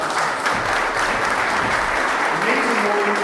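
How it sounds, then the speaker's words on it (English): An audience at PorcFest 2017 gives Lynn a round of applause, a steady wash of clapping close and loud throughout, with a voice faintly audible underneath near the end. "round of applause for Lynn, please."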